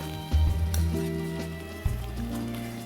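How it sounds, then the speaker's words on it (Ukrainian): Butter being stirred into a nearly finished pumpkin risotto in a pan gives a soft sizzle, with a couple of thuds and scraping stirs, heard close and fairly quiet. "Перемішуємо."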